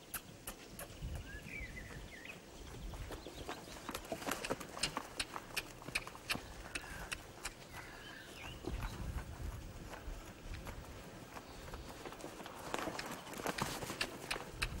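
A horse being trained for western riding moves under saddle at walk and trot, its hooves thudding in a regular clip-clop on the ground at moderate distance, with faint birdsong in the background.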